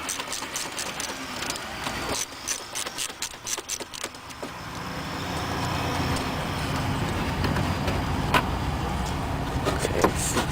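A socket and ratchet loosen a 10mm bumper bolt on a 2004-07 Scion tC, giving a quick run of close clicks followed by rustling handling noise and a steady low hum, with a few later clicks.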